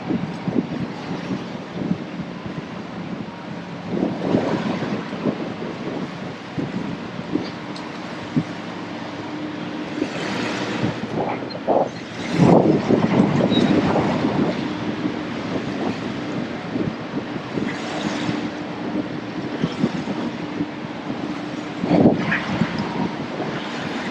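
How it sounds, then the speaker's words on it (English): Wind gusts steadily across a marina while a 60-foot yacht is docked, a constant rushing roar mixed with water and boat noise and occasional stronger blasts, with no voices. "throughout the day the winds are going to continue to drive from this way"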